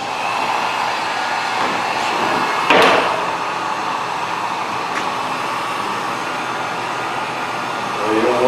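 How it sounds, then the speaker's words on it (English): A heat gun blows a loud, constant airy roar close by as it warms plastic during work on an island countertop, with no talking over it. "we're going to use a heat gun, because this thing's not going to be very cooperative."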